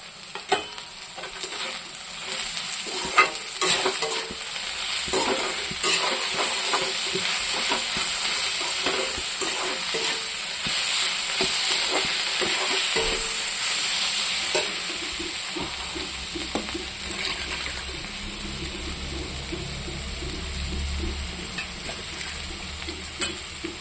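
Fish frying in a pan with turmeric, red chilli powder and crushed garlic and chilli, a steady loud sizzle with occasional stirring scrapes throughout, no voices.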